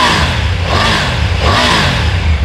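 Triumph Tiger 900 Rally Pro three-cylinder engine running loud and close, a steady rough drone with slight swells in revs and no voices over it.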